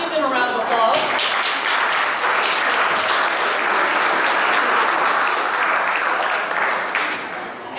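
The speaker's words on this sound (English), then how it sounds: "Let's give them a round of applause." Audience applause at a Cystic Fibrosis Taste Tour charity food event, a dense, steady wash of many hands clapping close by for the full duration, with voices mixed in underneath.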